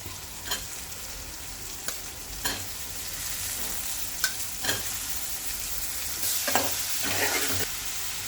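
Mushrooms frying in a pan for an Andhra-style tomato curry; a steady soft sizzle runs throughout, broken by several crisp scraping stirs and a louder hiss near the end.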